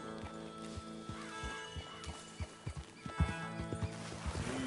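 Horses clip-clopping at a walk with a whinny rising near the end, hoof strikes fairly close and steady, no speech.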